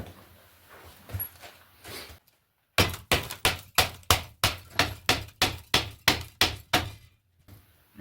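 Heavy metal-on-metal hammer blows strike a stuck brake line fitting on a 2003 Mitsubishi Galant, about a dozen loud, evenly spaced impacts in a steady rhythm after a brief pause, with a few lighter taps before.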